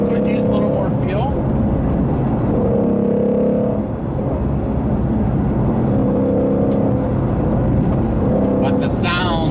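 A Ford Mustang Shelby GT350 engine hums and rises and falls in pitch while driving, heard steadily from inside the car with a faint whir layered over it.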